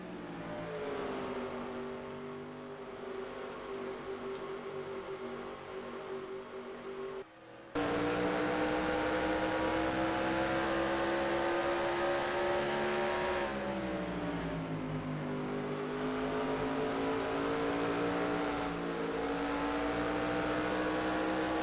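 Race car engines droning steadily around the banked Boise Raceway oval in NASCAR Racing 2003, a close, sustained harmonic whine that rises and shifts pitch as the cars power through the turns, with no talk.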